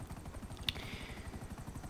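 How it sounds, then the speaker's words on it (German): A helicopter in GTA on a sightseeing flight gives off a steady rhythmic rotor chop, loud and even throughout, with a brief sharp click partway through and no talk. "fürs Ende wollte ich jetzt einfach einen kleinen schönen Hubschrauber-Rundflug machen"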